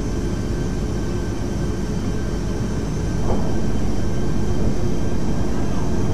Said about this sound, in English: Sounds like we just got off the runway.